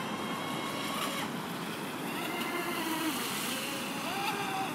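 A nuclear-themed 28-inch radio-controlled boat runs flat out on open water, a steady high-pitched motor whine carried over continuous wind and water noise, with faint voices in the background.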